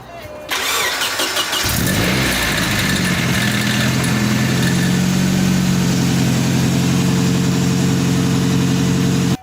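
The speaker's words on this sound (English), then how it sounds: "Okay, so the car started, which means that all the wiring is good to go." A car's engine cranks briefly and then catches, settling into a steady, loud idle with a low rumble. The car had been towed home after a drift event and had just been rewired.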